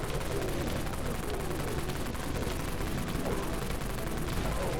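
A minigun, or heavy machine gun, fires in the Dead Frontier video game as a continuous, dense, roaring stream of rapid shots that holds loud and steady throughout without pause.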